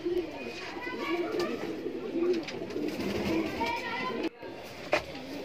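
Kaldume pigeons coo steadily in the Sayyed Pigeon Loft, low rolling calls repeating close by, with faint voices in the background and a brief knock near the end.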